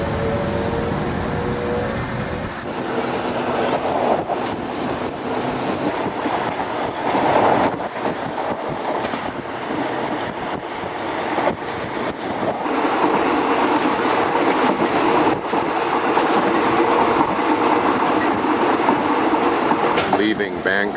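Passenger train travelling from Bangkok north toward Ayutthaya in Thailand, a steady loud rumble with clattering wheels and rattling carriage noise throughout, heard from inside the moving train.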